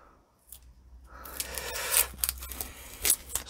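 Crinkly rustling and tearing of wrapping as a freshly painted Ford Rosso red engine flywheel is unwrapped, soft and close after a quiet start.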